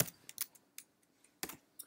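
Computer keyboard typing comes as a handful of quiet, irregular key clicks in short clusters with gaps between them, close but faint in a quiet room.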